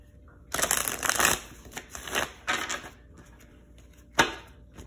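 Several bursts of tarot cards being shuffled, crisp riffling rustles in quick runs, close by, with a final short shuffle after a pause.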